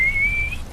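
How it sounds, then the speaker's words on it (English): A single short whistled note, close and clear, holding one pitch and rising slightly before cutting off. "Sorry for whistling on microphone."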